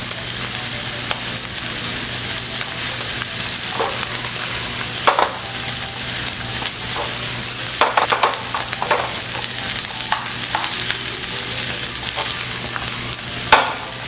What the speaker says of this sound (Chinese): 酱油1大匙从锅边淋下来， 炒出酱香味以后